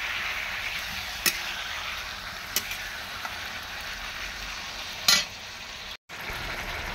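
Meat being sautéed in a pan in a village kitchen, a continuous close sizzle with a few sharp clicks and scrapes scattered through it and one brief dropout near the end; no talking.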